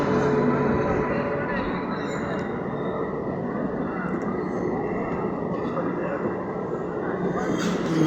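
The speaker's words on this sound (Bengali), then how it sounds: "ফাইনালি ঢুকছে ট্রেনটি, আর এইটাই বর্ধমান যাওয়ার লাস্ট ট্রেন" A train pulling into a station on the line to Bardhaman, a loud continuous low rumble of rolling wagons with platform crowd noise and voices talking over it.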